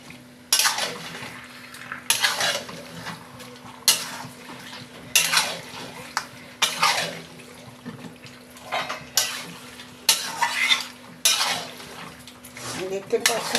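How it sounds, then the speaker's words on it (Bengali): Mutton being stir-fried in a pan, stirred to keep it from catching on the bottom: spaced metallic scrapes and clatters of a utensil against the pan, each a second or two apart, over a low steady hum. "দেখতে পাচ্ছেন বন্ধুরা, আমার কিন্তু মটনটা কষানো চলছে। আর একটু নেড়ে নেড়ে দিতে হবে"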